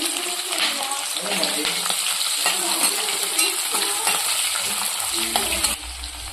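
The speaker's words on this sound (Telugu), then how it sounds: "దాంట్లోనే కరివేపాకు ఇవి మంచిగా ఫ్రై అయ్యే వరకు ఉంచుకుందామండి" Onions, green chilies and curry leaves fry in oil in a pan for a Rayalaseema-style puffed-rice dish. A steady sizzle runs under repeated metallic scrapes of a spoon stirring, with a voice speaking softly in the background.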